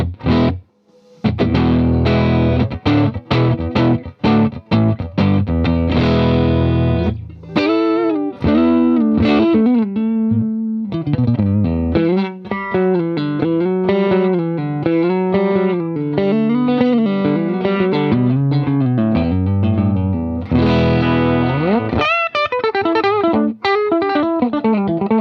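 An electric guitar played through a Vox AC15 C1 amplifier with reverb switched off, driven and distorted, moving from choppy strummed chords into sustained bending lead lines, loud and close with no talking.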